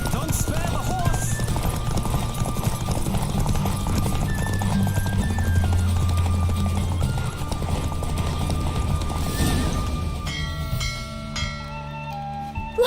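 A horse galloping in The Witcher 3 with steady rapid hoofbeats under music and speech, slowing near the end as the ride finishes and other game sounds take over.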